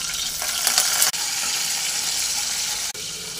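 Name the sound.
peanuts and chana dal frying in pan for chutney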